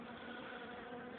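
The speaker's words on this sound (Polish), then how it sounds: "Wszędzie są osy" Wasps buzz around beehives during an early-September hive inspection, a faint, steady, continuous drone with no voices.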